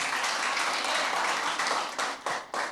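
A church congregation claps and applauds together, a dense wash of hand claps that stays steady, then breaks into uneven bursts before fading.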